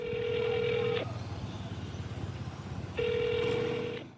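A telephone ringback tone sounds twice, a long electronic buzz, then a pause of about two seconds before it repeats; no one answers.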